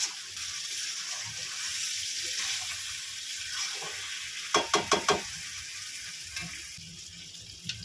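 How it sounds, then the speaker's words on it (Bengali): Low sizzle of potatoes and mutton frying in a pan, with a quick burst of several sharp scraping clinks midway. "এই পর্যায়ে আমি একটু আলুটা দিয়ে কষিয়ে নেব।"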